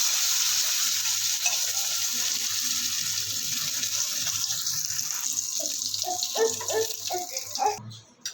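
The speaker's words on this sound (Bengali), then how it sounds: "কালকের 1 পিস মাছ আছে, মাছটাকে এখন একটু গরম করব" A leftover piece of fish from the previous day is warmed in a pan, giving a low sizzle, joined later by clattering and watery kitchen sounds near the end.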